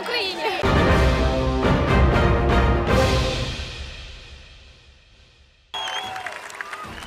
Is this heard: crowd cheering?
yes